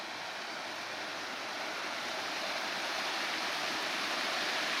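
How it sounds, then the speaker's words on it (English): Water pours continuously from a fountain waterfall along the downtown Riverwalk in San Angelo, Texas, a close, steady broadband rush that swells slightly louder over a few seconds. "coming up on another fountain, waterfall situation."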